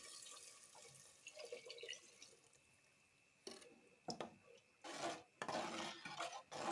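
Tamarind-water kuzhambu mixture pours into a cooking pan for a radish and potato kara kuzhambu, faint at first, then a few splashing, sizzling bursts with utensil clinks, no talk.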